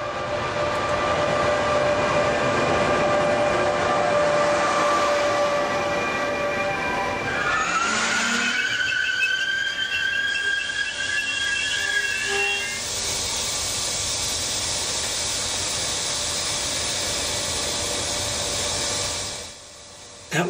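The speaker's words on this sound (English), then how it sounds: "First train is a southbound regional making a station stop at San Pietro in Casale." A southbound regional train pulling into San Pietro in Casale station, loud rumble and hiss with rising squealing brake tones mid-clip, then settling to a quieter steady hum before fading near the end.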